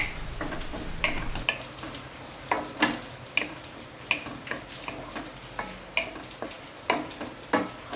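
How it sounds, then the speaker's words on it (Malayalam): Coconut mixture stirred in a pan as it heats, a steady run of scraping, ticking spoon strokes against the pan with a faint sizzle underneath, repeating roughly every half second and close by. "ഇതൊന്ന് നന്നായിട്ട് ചൂടാകുന്നത് വരെ നമുക്ക് ഇളക്കി കൊടുക്കാം"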